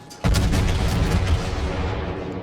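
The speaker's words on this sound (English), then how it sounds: "Full salvo out." Main guns of a Tier 6 New Mexico battleship firing a full salvo in World of Warships, one heavy, loud booming blast that rumbles on and slowly fades, with no voices.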